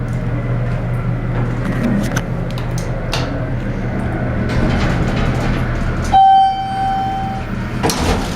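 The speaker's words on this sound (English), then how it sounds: "The elevator at the ESU Jeanette Reibman Administration Building." Westinghouse hydraulic elevator modernized by Schindler running in an administration building, a steady low hum and rumble with faint clicks and a brief tonal whine near the end, close and continuous.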